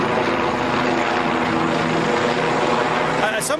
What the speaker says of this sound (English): I don't know if that helicopter is going to prevent you from hearing me